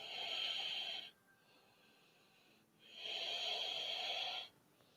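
Slow, deliberate breaths during a yoga flow, heard close and airy in two long inhale-exhale cycles with quiet pauses between them.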